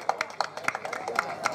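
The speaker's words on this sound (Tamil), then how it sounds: "கைதட்டுங்கப்பா எல்லாரும்." An audience clapping at a stage ceremony honouring a guest with a shawl: a sparse, uneven patter of individual claps from a modest crowd, fairly close, with light background voices.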